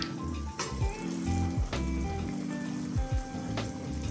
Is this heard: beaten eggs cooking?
yes